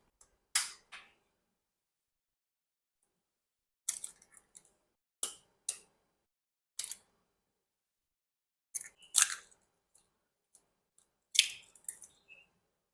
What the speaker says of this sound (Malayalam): അപ്പൊ നമ്മള് 4 മുട്ട പൊട്ടിച്ച് ഒഴിച്ചിട്ടുണ്ട്.